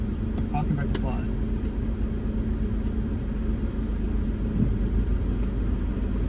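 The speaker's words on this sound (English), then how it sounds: "we are on our merry little way in the Peugeot 508." A 2013 Peugeot 508 Touring Wagon drives along with a steady low engine and road rumble, and a person talks faintly over the constant drone.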